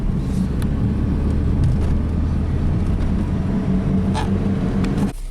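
An Audi 80 engine holding steady, even revs while driving, a continuous loud cabin drone with road rumble and no stumbles or dips.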